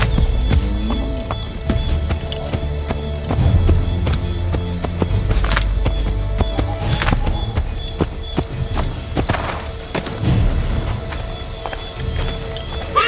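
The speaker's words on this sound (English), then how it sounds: "Get back on the horse, Connor." Horse hooves galloping in the video game Assassin's Creed 3, a continuous rhythmic clatter of hoofbeats under game sound effects and ambient noise.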